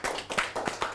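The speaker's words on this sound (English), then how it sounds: "Give yourself a round of applause for that" A handful of workshop participants clap briefly, a sparse, uneven patter of individual claps close by.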